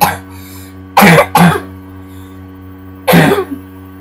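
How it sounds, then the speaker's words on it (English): A person coughs twice in quick succession, then once more a moment later, close and loud over a steady low hum while loading an Xbox Left 4 Dead 2 online game. "got my cough"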